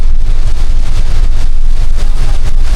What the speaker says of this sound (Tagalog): Lakas kasi ng hangin eh.